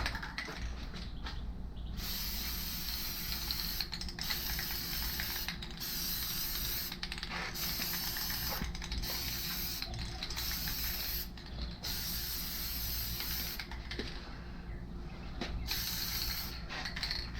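A shaken spray can applies a gloss Plasti Dip coat to car emblems. Steady hissing bursts repeat for most of the span, broken by short pauses, close and fairly even in level.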